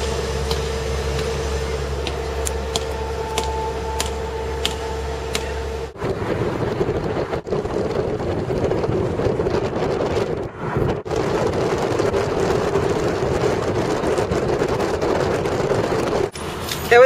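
Steady road rumble and wind from inside a New York City taxi cab heading up 2nd Avenue, with a loud interior tone that changes abruptly partway through and brief clicks and knocks scattered over the ride.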